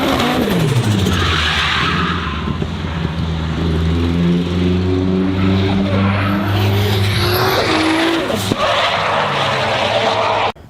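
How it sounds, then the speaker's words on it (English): Sultan Al Qasimi's Aston Martin drifting car at a Gatebil motorsport event in Norway roars loudly up through the gears, engine note climbing in steps, with tire squeal and skidding layered over it throughout. "Here we have Sultan Al Qasimi's Aston Martin drifting car"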